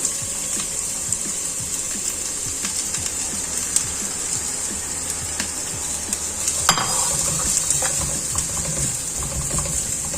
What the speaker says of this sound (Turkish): adet iri doğranmış soğanlarımı ekliyorum